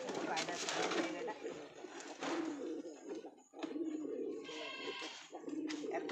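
Pigeons in a loft cooing softly in the background while a person moves about nearby, with rustling, knocks and a voice speaking over them.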